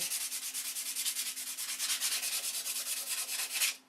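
Rhythmic back-and-forth rubbing as 320 grit sandpaper is worked by hand over wooden edges, each stroke a soft scratchy sweep, close and steady for a few seconds before stopping.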